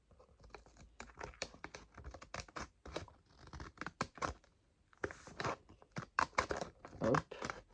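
Small scissors cut open a package with a series of close, crisp snips and crinkling, scratching bursts of material, irregular and quick, with brief pauses between cuts.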